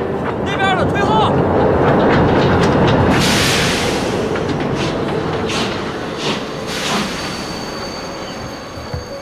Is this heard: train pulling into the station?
yes